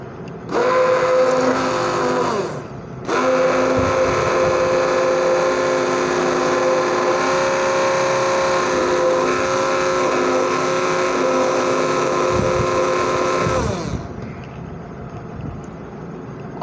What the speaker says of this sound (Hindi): अब हम इसको ब्लेंडर को बंद कर देंगे।